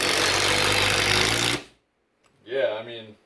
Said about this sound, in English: The drill's overtaking the impact driver.